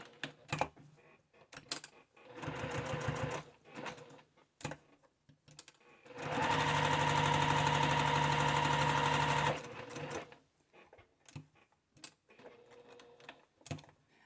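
A sewing machine stitches a finished edge on a bag strap or handle: short bursts of stitching and clicks, then one long, loud, even whirring run of a few seconds before stopping, followed by more scattered mechanical clicks.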